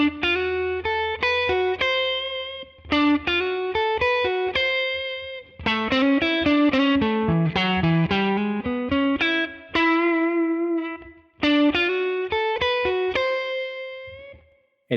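Distorted electric guitar playing a blues line over a D progression, with chord tones like the fifth, flat seventh and major sixth; loud, steady phrases with brief pauses, no talking.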